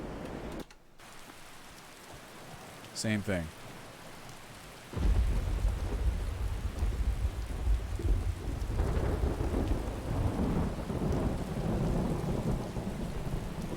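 Rain and thunder in the video game Skyrim: a steady rainfall hiss swells into a louder downpour with deep rolling thunder, preceded by a brief chirping sound, and a voice speaks briefly.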